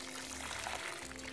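Water poured onto potted plants in a garden, a steady continuous splashing pour running the full length at moderate level, heard alone without talk.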